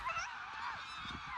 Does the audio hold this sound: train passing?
no